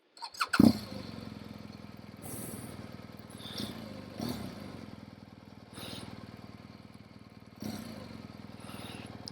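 A 2018 BMW R1200GS Adventure motorcycle rides along, its engine a low, steady rumble with several brief swells as it revs, heard at a moderate distance after a sharp initial knock, with no talking.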